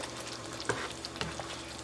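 A pot of fish akni with potatoes and spices sizzles while a spoon stirs through it, with soft scrapes and clicks over a steady close frying hiss.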